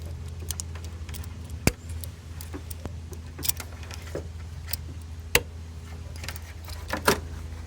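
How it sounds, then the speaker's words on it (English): A relay clicks open and closed repeatedly, sharp isolated clicks over a low steady engine hum, close by. "that relay is opening and closing"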